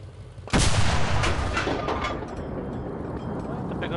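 Gunfire in the video game Enlisted: a sudden loud blast followed by sustained rumbling battle noise, with a player talking over it.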